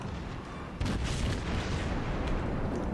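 Heavy warship guns fire in a naval battle game: one loud, deep boom hits partway in, then a broad rumbling roar carries on after it.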